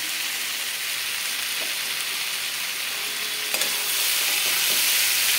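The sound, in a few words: stirring fried eggplant into cooked vegetables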